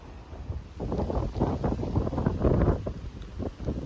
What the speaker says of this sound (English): Very, very blustery. Blowing a hoolie.